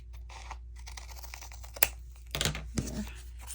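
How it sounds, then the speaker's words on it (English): Scissors trim a paper tag made from a glossy garden book, a few soft snips and crinkly paper scratches at close range over a faint steady hum. "I want to trim this off though."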